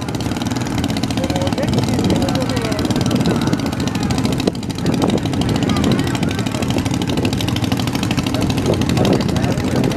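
Several racing boat engines run together at a boat race on a beach, a steady mid-pitched droning rumble with a brief dip partway, under commentary spoken over it.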